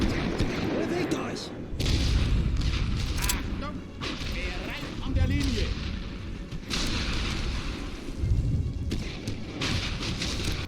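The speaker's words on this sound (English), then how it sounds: "That artillery is firing nearly point blank to hit our guys." Artillery firing in The Great War: Western Front game, with heavy booms and gun blasts over constant battle noise and mechanical clatter, loud throughout, with someone talking over it.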